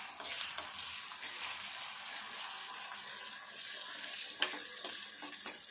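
Onions with ginger-garlic paste frying in a pan for a curry, a steady broadband sizzle with scattered stirring scrapes and a sharp clack near the end, close and moderately loud with no talking.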